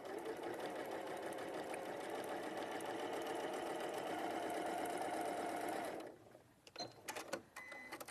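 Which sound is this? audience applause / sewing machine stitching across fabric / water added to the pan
sewing machine stitching across fabric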